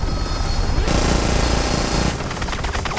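Dense automatic gunfire in a scene from The Incredible Hulk film, a continuous loud rattling barrage that shifts in texture partway through, with heavy low rumble underneath and no voices.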